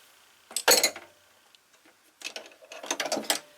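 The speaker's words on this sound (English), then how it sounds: "This is a brand new Craftsman ratchet." A brand new Craftsman ratchet ratchets with short bursts of metallic clicking, a loud rapid run near the start and a second longer stretch of clicks toward the end, close and with no voices.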